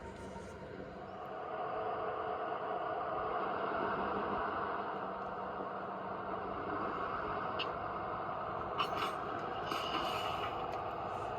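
A G scale model train pulls away four cars on a layout, giving a steady low rolling rumble with faint clicks and a light squeal of wheels late on, fairly quiet and without talk.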